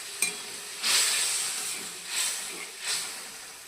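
Fish curry gravy in a pan, just topped up with water, hisses and sizzles in three or four rising steamy surges over a steady low bubbling background.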